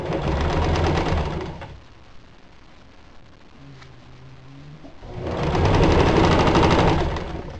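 A sewing machine chain-pieces baby quilt blocks in two loud, close runs of fast, steady stitching. A quieter pause between them carries faint handling noise and a brief murmur of speech.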